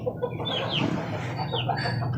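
Chickens, a hen and young stags, cluck and chatter continuously at close range, several birds overlapping in short throaty calls.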